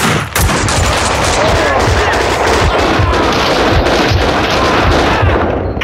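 Dense, sustained gunfire from the video game Max Payne 2, rapid automatic bursts and shots overlapping in a loud, continuous barrage for the whole stretch.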